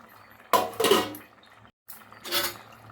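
Coconut milk rice in a pot, with two short bursts of spoon scraping and clinking against metal, then a lid being put on, separated by a brief silence.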